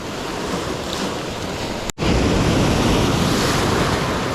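Ocean surf breaks on the shore at low tide, a steady loud wash of waves mixed with wind buffeting the microphone, briefly cutting out before the roar resumes.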